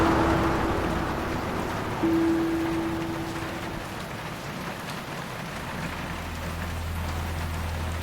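Steady rain falls throughout a scene in a Malayalam short film, a soft, even hiss with a low constant hum running beneath it and no voices.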